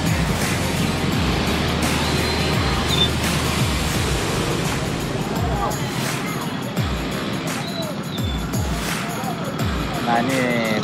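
Buses, including a Sultan Kelas coach from NBM, idle in a traffic jam at a Saturday market street in Pokamba. Engines rumble continuously with passing vehicles and a constant background murmur of the crowd.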